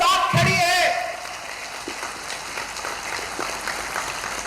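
A loud voice rings out at a political rally speech. A crowd then answers with light, scattered applause that carries on at a low level.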